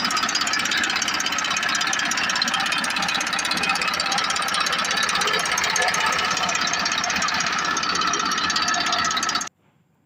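A Sonalika DI 740 tractor engine runs steadily at idle with a continuous mechanical clatter and knock, close and loud, before cutting off abruptly near the end.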